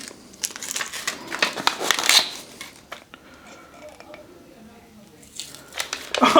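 Paper crinkles and tears as it is peeled off a freshly sublimation-printed mug, close and intermittent, with bursts of rustling at the start and end and a quieter stretch in between.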